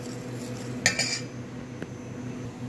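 Ground jute leaves (saluyot) being mixed with flour in a dish, with a few light utensil clinks and scrapes over a steady low background, close and faint, no talk.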